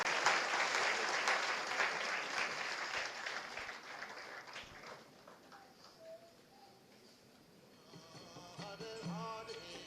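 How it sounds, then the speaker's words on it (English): An audience at a spiritual book marathon prize distribution applauds a team, a dense burst of clapping that gradually thins and fades, with a few birds cooing and chirping as it dies away. "A round of applause for Panchajanya team."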